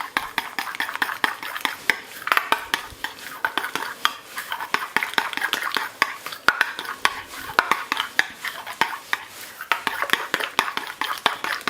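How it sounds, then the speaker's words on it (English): Sauce with tomato ketchup being whisked for a smash burger, rapid rhythmic clicking and tapping of a whisk against a bowl, close and busy, with a faint sizzle in the background. "A little bit of tomato ketchup. Give it a whisk."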